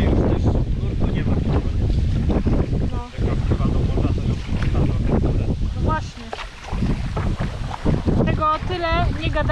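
Strong wind buffets the microphone while kayaking on the Rega river, a steady loud roar with paddle and water splashes throughout, and people talk intermittently over it.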